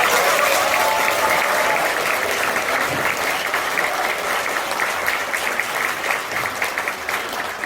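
A ceremony audience at a cultural center director's farewell and inauguration breaks into sustained, loud applause, many hands clapping together from start to finish and tapering slightly toward the end.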